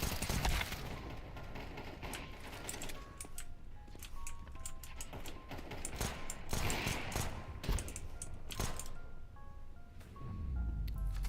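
Gunfire in the Counter-Strike 2 video game, with rapid bursts and single sharp shots popping in quick clusters over ambient game sounds, fairly faint and with no talking.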